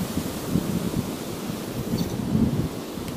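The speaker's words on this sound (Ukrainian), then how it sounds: "Вітер просто ужасний" Strong gusting wind buffets the microphone on a riverbank during carp fishing, a loud continuous low rumble with uneven surges and no voices.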